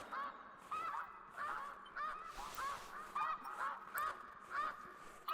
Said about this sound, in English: I'm going to ignore how tempting the duck calls are.